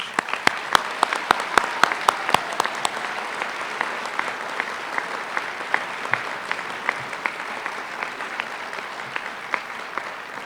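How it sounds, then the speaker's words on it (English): A crowd at a college awards ceremony gives a final round of applause, opening with a few sharp, close claps before settling into sustained, even clapping that fills the room for ten seconds. "Join me now for one final round of applause honoring those who've contributed so much to our college."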